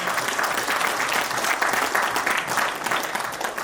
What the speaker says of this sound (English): entire Softdisk team certainly deserves a big round of applause very big round of applause